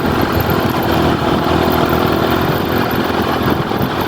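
A motorcycle engine runs steadily and loudly on a highway in Ternate, Cavite, a continuous close droning roar with wind noise and no speech.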